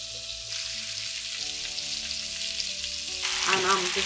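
Hilsa fish pieces frying in a pan, a continuous close sizzle and crackle that swells louder toward the end as the fish is turned, with no talking.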